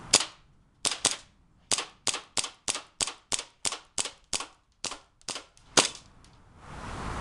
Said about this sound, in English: this is Fred with a fire demonstration of his 1911